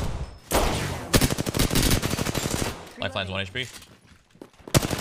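Rapid automatic gunfire in the video game Apex Legends, loud bursts of closely spaced shots repeating in quick succession, with players talking over and between the volleys.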